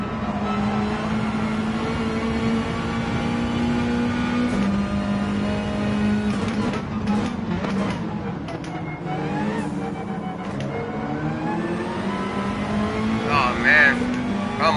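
Porsche race car engine in Gran Turismo 7 revving and holding steady drone with shifts and pitch climbs, loud and continuous across the whole stretch, with voices talking over it.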